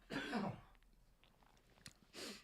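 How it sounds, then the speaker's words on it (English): Two separate coughs, a harsh burst at the start and a shorter one near the end, with quiet room tone between. "excuse me a minute, I've got a cough"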